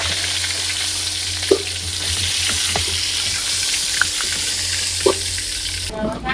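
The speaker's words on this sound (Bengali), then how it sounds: "এখানে লাউ রান্না চলতেছে লার্কির চুলায়" Bottle gourd cooks over a wood-fired stove with a steady, close sizzle and frying hiss, broken by a few sharp clinks of stirring before the sound cuts off near the end.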